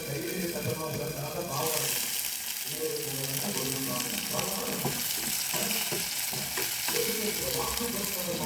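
Shallots and garlic fry in oil in a clay pot for a Jaffna-style prawn curry, a steady close hiss and crackle of sizzling with some clattering and stirring underneath.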